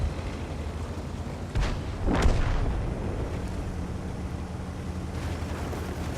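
An IKV-90 tank destroyer fires its cannon in a tank video game, with a couple of booming shots around the two-second mark rising out of a steady low rumble of engine and battlefield noise, with no talking.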